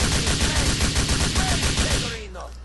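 Assault rifle fire in the Grand Theft Auto IV video game: loud, dense automatic bursts rattle continuously for about two seconds, then trail off into a fading echo.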